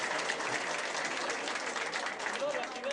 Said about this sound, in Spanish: Pido un aplauso para el señor presidente.